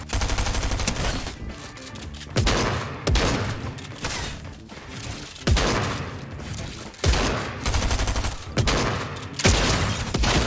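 Loud automatic gunfire in a shooter video game, with repeated bursts of rapid shots and booming impacts over about ten seconds, each burst separated by short gaps and all close and dominant.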